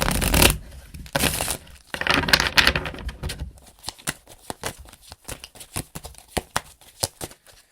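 A deck of tarot cards is shuffled by hand, with a few loud riffling bursts followed by a rapid series of sharp, close, rhythmic card taps and clicks, no speech.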